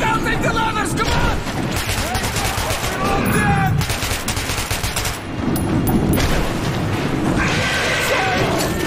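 Gunfire in the video game Metro 2033 Redux, dense rapid shots and bursts that continue throughout, loud and close, mixed with shouted voices.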